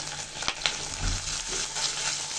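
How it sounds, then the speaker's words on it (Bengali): Onion frying with ginger and garlic paste in a pan for restaurant-style chilli chicken, a steady close sizzle with a few sharp stirring scrapes and clacks. "একটু ভেজে নেব।"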